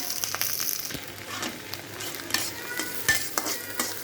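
Food stirred and frying in mustard oil with a bean, potato and fish paste, a steady close sizzle broken by scraping stir strokes and a few sharp clacks of the spoon against the pan.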